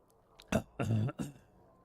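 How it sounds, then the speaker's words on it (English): A person clears their throat in three short, rough bursts, close and fairly loud. "I'm gonna clear my throat there"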